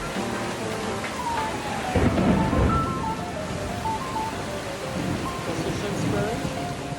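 Heavy rain pours steadily in Singapore, a dense wash of noise with a low rumble of thunder, while voices murmur faintly underneath.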